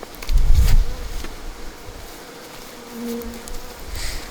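Honeybee colony after a swarm, with workers fanning and buzzing in a dense close hum, a louder rustling burst at the start and a faint steady drone continuing.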